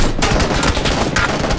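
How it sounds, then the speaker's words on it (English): Bursts of in-game gunfire from PUBG crackle loud and close across a short stretch, several rapid shots in quick succession with little talk over them. "I hear shots."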